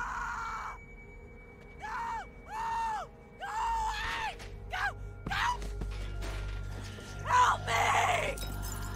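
A woman screams repeatedly in The Walking Dead video game, several sharp, close cries spaced in a rough rhythm, followed by gasps and mechanical clatter over a low rumble.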